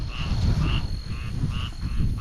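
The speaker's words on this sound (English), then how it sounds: "There's always a symphony of frogs right after it rains down here." A chorus of frogs croaks at night after rain, repeated pulsing calls overlapping at a steady rhythm, fairly close, over a low rumble of wind.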